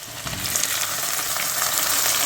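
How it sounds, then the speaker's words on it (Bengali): Chopped onion and tomato fry in hot oil in a pot, following whole cumin, cardamom and cloves, giving a loud, continuous sizzle with faint crackle and no voices. "এখন এই পেঁয়াজ আর টমেটোটা তেলের মধ্যে খুব ভালোভাবে ভেজে নেব আমি 2 থেকে 3 মিনিট"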